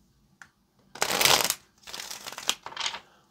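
Tarot cards are shuffled by hand in quick close bursts, one long riffle followed by two shorter ones, crisp papery flutters with brief pauses between.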